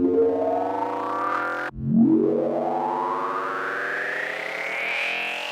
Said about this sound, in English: It sounds like this might be a good basis for kind of riser synth.